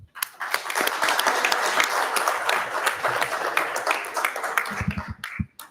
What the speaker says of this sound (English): let's give everyone a round of applause again, please